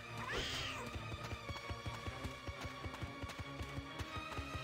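A cat meows repeatedly nearby, a drawn-out call near the start over rhythmic background music and clattering game sounds.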